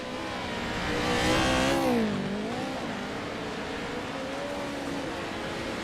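Pro 2 Lites race trucks warming up on the Bark River track, an engine revving and rising then falling as it passes by, with a steady engine drone continuing afterward.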